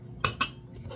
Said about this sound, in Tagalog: Kutsilyo ilagay sa lagayan.